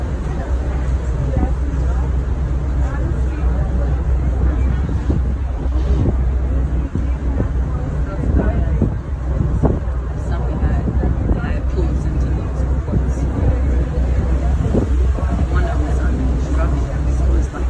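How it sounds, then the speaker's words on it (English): The Staten Island Ferry underway, with a constant low engine rumble, water and strong wind buffeting the microphone, and a crowd murmuring in the background throughout. "Thank you for riding the Staten Island Ferry."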